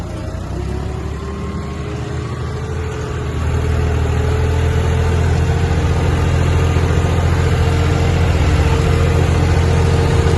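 A vehicle engine runs steadily at low rpm, around 100 to 150, a continuous deep rumbling drone that grows slightly louder and fuller a few seconds in and then holds even, close and alone.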